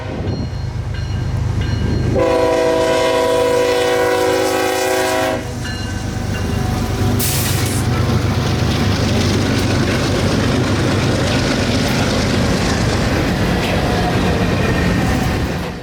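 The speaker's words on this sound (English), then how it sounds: "it is not hard to get one of these empty trains rolling quickly" A freight train of empty cars rumbles past steadily with a heavy diesel locomotive drone, a loud horn blast sounding early on, wheels and cars clattering continuously throughout.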